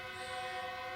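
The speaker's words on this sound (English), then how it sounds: "There's a train. That's a train." A distant train horn holds one steady, faint blast, sounding alone with no talk over it.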